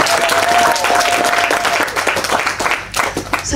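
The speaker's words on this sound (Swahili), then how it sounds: "Piga makofi kama unaona neno lako" A church congregation claps loudly during a sermon. The brisk, dense applause holds strong, then thins and trails off into scattered claps.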